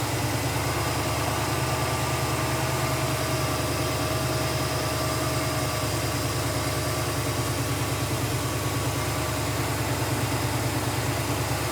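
A vehicle engine idles steadily nearby, a continuous low rumbling drone with a faint whine above it and no voices.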